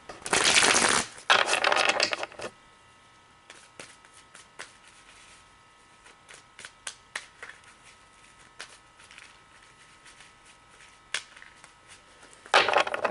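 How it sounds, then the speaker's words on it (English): A tarot card deck riffled and shuffled in two loud bursts at the start and end, with soft taps and handling clicks in between. "So I'm going to give the deck one last shuffle."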